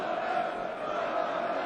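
A steady, low crowd murmur fills the hall at the 2022 German Darts Championship final, an even wash of distant chatter with no sharp cheers or peaks.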